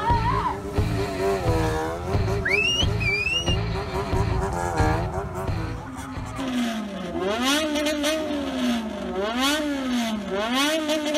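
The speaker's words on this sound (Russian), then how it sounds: "мирное соревнование звуком, и ребята, то есть перед публикой, становятся на мотоциклах и показывают свое мастерство владения своим мотоциклом" Modified bosozoku motorcycles revving their engines in turn at a sound competition before a crowd, loud rising and falling throttle blips forming warbling, almost tuneful engine wails that go on continuously.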